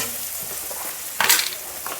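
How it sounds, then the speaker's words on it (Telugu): Amaranth leaves frying with moong dal in a pan give a steady close sizzle with a short louder hiss and stir partway through. "కొంచెం వేపాలి,"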